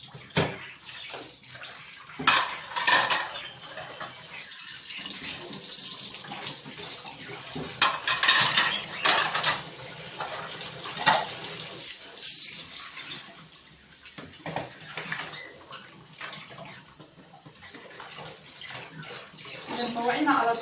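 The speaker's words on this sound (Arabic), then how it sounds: "نشطفهم بقى حبه المواعين وبعد كده نكمل الباقي ان شاء الله" Running tap water splashes in a kitchen sink as dishes are rinsed, with intermittent clatter of plates and pots throughout, close and fairly steady, while someone talks now and then.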